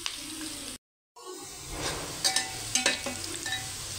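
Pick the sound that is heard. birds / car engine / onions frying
onions frying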